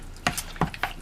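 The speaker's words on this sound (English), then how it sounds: "So I have to stir it." Pumpkin pie filling with eggs being stirred by hand in a bowl, three distinct scraping strokes spaced apart, close and fairly loud with no talking.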